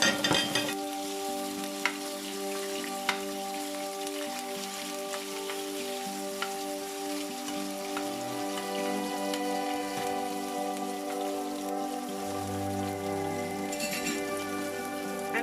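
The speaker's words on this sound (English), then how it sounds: "now I'm going to add my herbs in my skillet. You just want it to saute" Herbs sauté in a skillet for a Bahamian corned beef breakfast, making a steady, even sizzle with faint crackles throughout. A low tonal hum runs underneath, and no one speaks.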